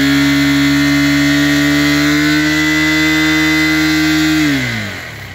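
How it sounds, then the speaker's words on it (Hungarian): A KTM 390 Adventure motorcycle engine roars steadily at high revs with its throttle stuck open in cold weather, a loud sustained drone that drops in pitch near the end as the engine winds down. "hogy bömbölt a motor."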